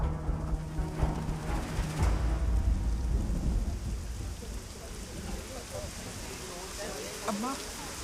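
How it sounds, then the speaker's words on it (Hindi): Steady rain pours down with rumbling thunder rolling through, a dense wash of rainfall with low booms early on, while faint voices can be heard beneath the storm. "चल बारिश हो रही है अम्मा"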